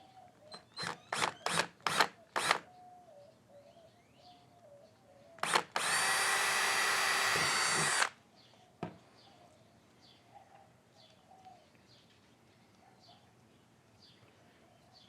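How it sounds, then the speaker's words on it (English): A power drill bores into plastic threads in one loud steady whine of about two seconds, after a few sharp knocks and before quieter handling sounds. "drilling through these threads might be a little tricky, but it's plastic"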